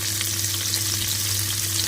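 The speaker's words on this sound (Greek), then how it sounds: "μπορείς να τηγανίσεις τις γαρίδες σου βάζοντας τη μισή ποσότητα ελαιόλαδο και 1 κομμάτι ζωικό βούτυρο" Shrimps fry in olive oil in a pan, giving a steady, loud, close sizzle with crackling spatter that runs throughout, and no voices are heard.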